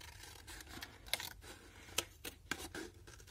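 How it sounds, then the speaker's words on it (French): Scissors trim around the edge of a sheet of paper, giving a handful of crisp, separate snips at uneven intervals over a soft rustling background, close and fairly quiet. "je peux prendre mes ciseaux et venir un petit peu détourer"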